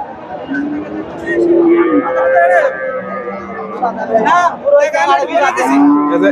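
Cows moo repeatedly, with long drawn-out calls rising and falling, amid the busy chatter of a crowded livestock market for Deshal and Sahiwal dairy cows and calves at Dhaper Hat, Bogura.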